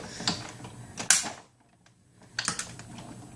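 A large die-cutting machine's magnetic platform and base plates crack and creak under pressure as the stack is cranked through. Sharp mechanical cracks come in two bursts separated by a quiet gap, close and loud, with no talking.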